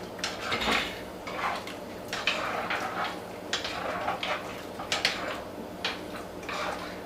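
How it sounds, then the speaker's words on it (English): A spoon stirs pig feet stew with tomato sauce in a cooking pot, giving a steady run of soft scraping and clinking knocks against the pot in an uneven rhythm, close by and fairly quiet. "we're gonna give this a stir."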